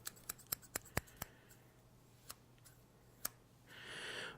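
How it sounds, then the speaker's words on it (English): Scissors snip hair for a haircut in close, quiet detail: a quick run of sharp metallic clicks, then two more isolated snips, followed by a soft rustle near the end. "And then we'll do a couple snips to the right. Couple snips to the left."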